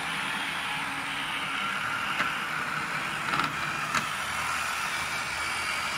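Gilbert HO ALCO DL600 model locomotive running over track switches, giving a continuous motor whir and rolling hum with a few faint clicks and bumps as it crosses the points.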